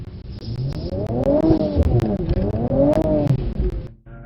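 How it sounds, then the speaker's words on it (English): A Mercedes-AMG C43 accelerates hard on a track, its engine rising in pitch through two strong surges with a brief gear change between them, loud and close from inside the cabin, before cutting off abruptly. "I want you to accelerate away from him"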